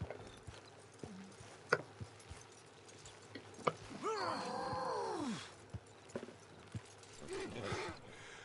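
Video game horses' hooves clip-clopping in uneven beats, with a drawn-out horse whinny in the middle and another shorter one near the end.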